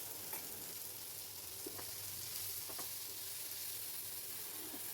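Prawn masala with chopped tomato and slit green chilli sizzles steadily in a pan while being stirred, a continuous frying hiss broken by a few soft scraping strokes, with no talking.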